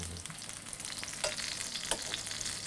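Porcini and other mushrooms fry in a very large pan, a dense steady sizzle with occasional crackles and pops, heard close and alone without talk.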